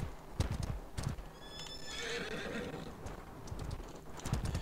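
A horse in the medieval combat video game Mordhau whinnies once in a high shrill neigh amid repeated hoof clip-clops and thuds from the game action.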